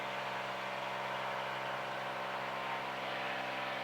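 Steady drone of a Cirrus SR22 light airplane's piston engine and propeller running at a constant idle or run-up pitch, loud and close, with no talk throughout.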